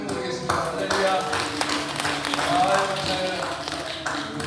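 A church congregation claps together during a Sunday service, a dense, rhythmic patter of many hands with voices mixed through it.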